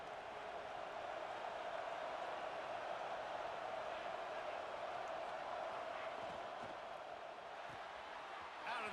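Steady stadium crowd roar in the College Football 26 video game, a dense continuous wash of cheering and noise filling the whole stretch at an even level, with no distinct voices standing out.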